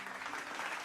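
Applause for the makers of a game, a steady broadband wash of clapping filling a brief moment without any voices.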